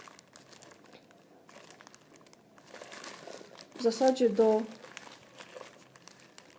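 Crinkling plastic wrapping around a paper wiping roll is handled close by, a burst of crumpling in the middle of the clip, with someone talking around it.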